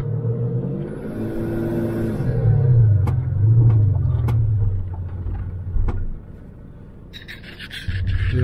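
A truck pushes through sand dunes, its engine a heavy, near rumble that swells as it revs hard, then settles into a lower drone before rising again.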